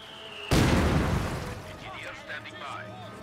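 A mortar shell explodes with a sudden heavy boom in the World War II strategy game Company of Heroes 2, its rumble decaying over a couple of seconds as a voice speaks faintly underneath.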